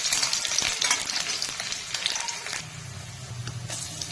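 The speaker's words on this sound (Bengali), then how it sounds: "সরষের তেল দিয়ে ফোড়নে দিচ্ছি দুটো শুকনো লঙ্কা, তেজপাতা, ডালচিনি, এলাচ।" Dried red chillies, bay leaf, cinnamon, cardamom and chopped onion frying in mustard oil, a close, busy crackle and sizzle with stirring clatter, steady throughout and shifting slightly lower near the end.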